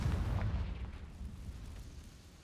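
A Confringo fire spell explodes in Hogwarts Legacy, a heavy low boom opening the clip and then rumbling and crackling as it fades over about two seconds.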